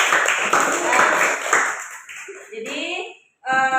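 Applause for group one fills a classroom during a teacher-training lesson: dense, steady clapping for about two seconds, then fading into scattered claps and a few voices.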